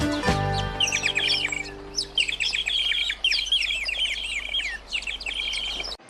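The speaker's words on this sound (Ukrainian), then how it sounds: "А це птахи." Several small birds chirp and tweet in quick, overlapping bursts of high calls, fairly close, with a steady low hum underneath.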